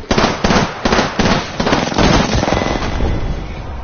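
Rapid gunfire from a PS4 shooter game rattles in loud, close bursts, with sharp shots at the start and then a dense, sustained volley.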